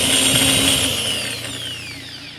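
A handheld AGP EB12 1100W pipe beveling machine runs at low speed with a high motor whine that slowly drops in pitch and loudness, close and alone without talk.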